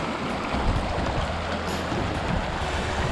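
Bright Angel Creek at the bottom of the Grand Canyon flows in a steady, broadband rush of running water, close and continuous throughout with no voices.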